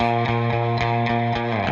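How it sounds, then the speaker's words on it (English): An electric guitar plays through a cranked Fender amp hit hard at the front end, giving a sustained gainy overdriven tone with rhythmic chord pulses, loud and close with no talking. "As I crank it more, it'll get a little more gainy"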